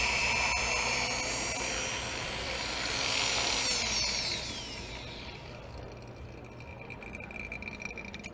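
A power drill whines loudly while boring a cylindrical hole into cladding material, as in a tile installation demonstration at a trade show. The high, steady tone wavers, then drops away after about five seconds, leaving a quieter hum.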